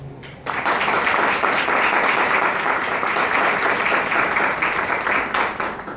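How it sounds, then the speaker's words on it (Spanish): Warm applause breaks out at a national constitutional law congress in Peru, a brief lead-in followed by a sudden, dense burst of clapping from a large audience that holds steady and then begins to taper. "lo recibimos también con un caluroso aplauso"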